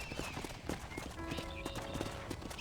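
Horse hooves clip-clop steadily in Red Dead Redemption, a quiet, even trot running under faint game ambience and music.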